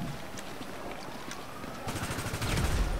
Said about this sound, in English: Woo! Two grenades!